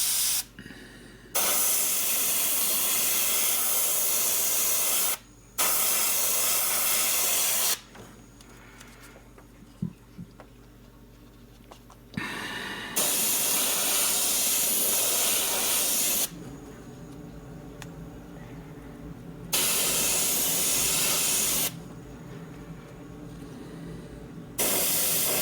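An airbrush sprays paint onto a 7-inch glide fishing bait in long, steady hissing bursts, switching on and off several times with quiet gaps between, close and loud.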